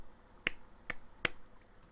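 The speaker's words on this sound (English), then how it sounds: "What's that sound? Me clapping." Three sharp, separate hand claps, a person in a quiet room, evenly spaced and fairly close, with nothing else heard between them.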